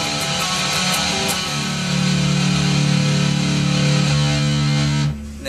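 Distorted electric guitar plays a riff, a dense, loud, sustained wash of driven chords that cuts off near the end.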